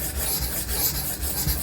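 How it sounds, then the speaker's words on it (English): Steady abrasive rasp of a Benchmade Redoubt knife blade stroked with firm pressure across a sharpening stone, close and continuous over a brief stretch, with no speech. "you really want to put a little extra pressure in there on your strokes"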